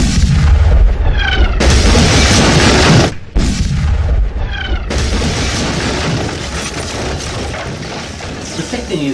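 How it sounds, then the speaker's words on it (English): Two loud, close explosions boom out one after the other, the second following a short gap, with rumbling and falling debris continuing afterward under a dense, noisy wash. "two explosions."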